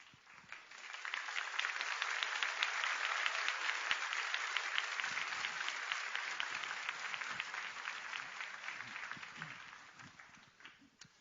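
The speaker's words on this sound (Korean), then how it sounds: "박수 부탁드립니다." Church congregation applauding as the pastor comes out, a sustained wash of many hands clapping that swells in, holds steady and tapers off over about ten seconds.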